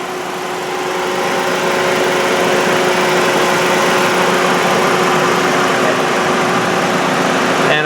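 A 2005 Dodge Neon SXT with a 2-liter 16-valve four-cylinder runs at a steady, even idle, close and loud, a constant hum with no voices.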